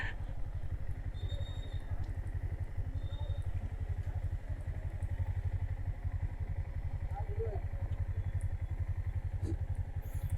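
A motorcycle engine runs steadily close by throughout, its low rhythmic rumble continuous and loud, with faint background clatter and no clear talk over it.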